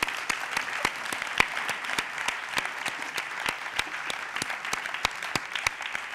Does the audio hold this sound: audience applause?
yes